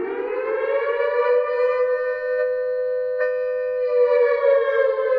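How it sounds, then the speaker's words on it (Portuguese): A civil defense siren wails alone in a steady, rich harmonic tone whose pitch rises slightly and holds, with a brief shift midway and a subtle change in tone toward the end, heard without any voices. "o som da sirene propositalmente muda"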